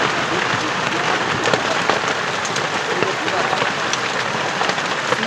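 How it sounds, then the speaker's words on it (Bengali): Hail falls by the Canning river in a loud, dense clatter of pellets striking surfaces, a constant crackling patter close by with no pause across the whole stretch. "এই বছরে প্রথম তো এখানে শিলাবৃষ্টি হচ্ছে"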